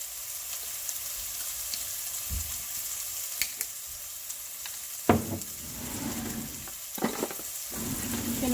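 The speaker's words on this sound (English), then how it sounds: "And then we're going to add the soy sauce." Soy sauce poured into a hot pan, a soft steady sizzle with a few sharp pops and stirring scrapes, fairly quiet and close, with no talking.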